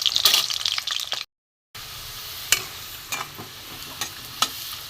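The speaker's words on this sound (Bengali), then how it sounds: "একটু লাল করে ভেজে নেবো আলুটা।" Potatoes fry in mustard oil in a karahi, giving a close hissing sizzle with sharp crackling pops; the sound drops out briefly, then returns as a quieter steady frying with occasional spits.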